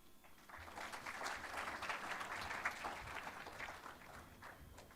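Applause from an audience at a technology conference session in Diani, Kenya, a sustained bed of many hands clapping at moderate distance for several seconds, then gradually thinning.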